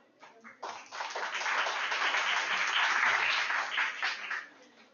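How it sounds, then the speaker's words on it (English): An audience at a college event gives a round of applause for a guest, scattered claps building quickly into sustained, loud clapping that holds for several seconds before tapering off. "Please join me in appreciating our guest with a round of applause."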